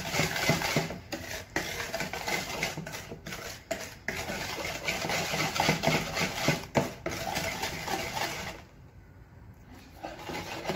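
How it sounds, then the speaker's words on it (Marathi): Cake batter for an eggless Parsi-style mawa cake being stirred in a bowl after half a cup of milk is added, with steady scraping and clinking of a utensil against the bowl, fairly close, continuing for several seconds before a short quiet gap. "आणि पुन्हा थोडं हलवून घेणार।"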